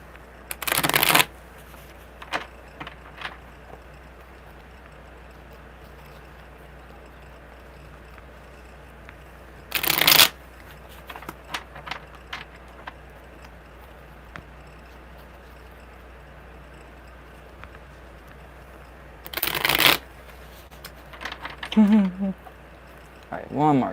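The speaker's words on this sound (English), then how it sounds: "Alright, one more good shuffle." Tarot cards being shuffled close up during a live reading, three brief bursts of riffling spaced several seconds apart, with quiet handling noise and soft sounds in between.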